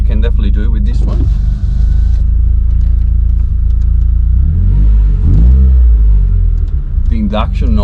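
A car engine revs with strong induction noise, a deep rumbling growl that climbs and falls through the clip, close and loud, with someone talking over it in places.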